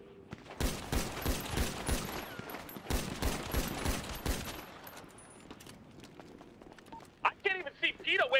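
Rapid bursts of gunfire from an online shooter video game arena match, dense volleys in the first half, then sparser shots while players talk over voice chat.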